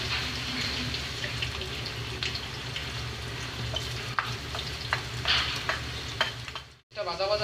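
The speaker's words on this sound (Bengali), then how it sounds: "এটা ভাজা ভাজা হয়ে গেছে, এখন একটু পানি দিয়ে দেবো যাতে পেঁয়াজটা না পুড়ে যায়" Onions fry in hot oil in a pan, a steady loud sizzle broken by scraping stirs and clinks of a spoon, with a brief splash near the end.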